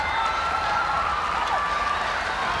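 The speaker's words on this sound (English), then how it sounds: "the crowd delighted with that." A crowd cheers and applauds steadily at a para swimming race at the 2015 ASEAN Para Games, a continuous loud roar with whistles filling the indoor pool hall.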